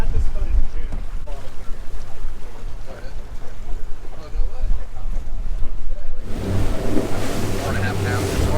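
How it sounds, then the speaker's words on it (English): A motorboat drones offshore through gusting wind and crashing waves, with heavy wind buffeting the microphone and a louder rush of spray near the end. "We're making our way out offshore. It's windy and rough."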